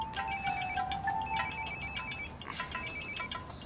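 A mobile phone ringtone rings in an indoor scene, a repeating electronic melody in bursts, fairly loud and close with no speech over it.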